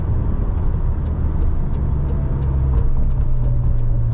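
A McLaren GT sports car launching hard under launch control, a loud, steady low engine roar that holds strong and continuous throughout, with faint higher mechanical whine on top and no talking.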